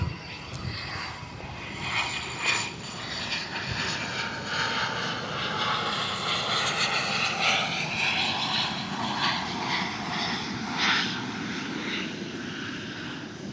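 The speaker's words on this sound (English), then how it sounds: "it's not a very big jet, but it's going to be flying almost right overhead" A small jet takes off from a nearby runway beside the Missouri River in Omaha and passes almost directly overhead, its engine roar swelling into a loud, steady rush that holds through the whole stretch.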